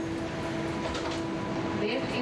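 Bronx-bound 4 express train on the New York City subway, a steady rumble with a constant tone, heard from on board and continuous throughout.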